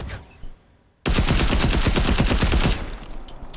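Rapid automatic gunfire from a suppressed weapon in Fortnite, a dense burst of evenly spaced shots that runs loud for about two seconds. A quieter tail follows, with no talking.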